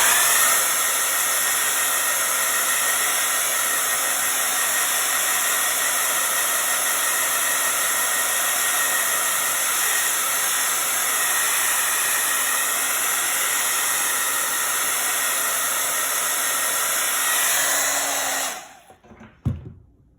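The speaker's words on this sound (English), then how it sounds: "So I'm gonna just blow it dry to speed it up a little." A hair dryer blasts continuously and loudly, close up, drying red paint on a ladybug painting, then cuts off abruptly near the end.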